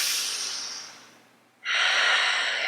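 Close breathing during a yoga balance pose: a long audible exhale that fades out, a short pause, then a sharp, strong inhale.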